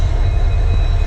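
An Indian Railways train hauled by an EMD diesel locomotive gives a loud, close, steady engine rumble with a deep low throb and a faint high whine, and no voices over it.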